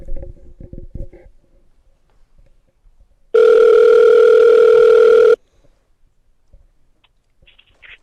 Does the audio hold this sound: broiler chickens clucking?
no